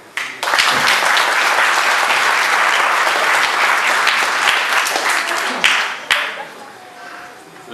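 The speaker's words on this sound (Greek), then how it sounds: "Ναι, γιατί δεν το χειροκροτείτε." An audience breaks into sustained applause at a pie-cutting event for a South Corfu athletics club, dense clapping filling the room for several seconds before tapering off.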